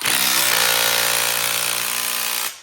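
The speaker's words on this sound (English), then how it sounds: "I'll hold and use my impact to tighten." An impact wrench tightening the front axle of a 2000 EZ Go golf cart, a loud continuous buzzing rattle held for over two seconds before cutting off abruptly, close up.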